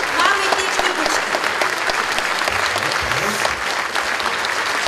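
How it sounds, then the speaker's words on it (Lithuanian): An audience applauding a pianist at a concert, loud sustained clapping from a large crowd at an even level throughout, with a voice faintly audible underneath. "Tai dar kartą audrinį plojimai pianistai"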